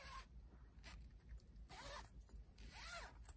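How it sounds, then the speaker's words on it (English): A zipper pulled closed on a SnoozeShade fabric cover fitted over a travel cot, heard as a few quick rasping zips with short pauses between them, close and fairly clear, with no one talking. "and zip it up"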